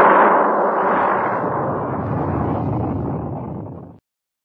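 Spaceship launching, a loud broad roaring blast that starts at full strength and slowly thins before cutting off abruptly after about four seconds, alone.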